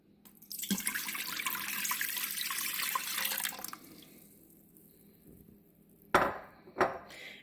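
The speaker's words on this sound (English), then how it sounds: "you will add some water into your Instant Pot" Water pours steadily into an Instant Pot for a few seconds, then stops; two sharp clanks follow near the end.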